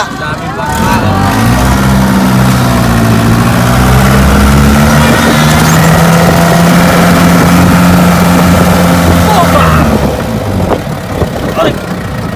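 A boat engine idles with a loud, steady low drone that holds throughout on an island-hopping outing at Cagbalete Island, and voices are faintly mixed in.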